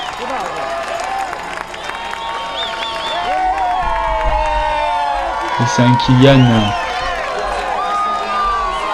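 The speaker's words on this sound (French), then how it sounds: "Chamonix applaudit." A crowd in Chamonix applauds and cheers as a trail runner arrives, steady clapping with whoops and shouts under a commentator speaking close up, the cheering swelling briefly near the middle.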